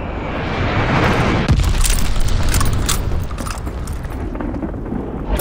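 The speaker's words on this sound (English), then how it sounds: "Enemy glide bomb incoming." An enemy glide bomb detonates in Call of Duty Vanguard with a loud, heavy boom that gives way to a long rumbling blast and crackling debris, with no voices over it.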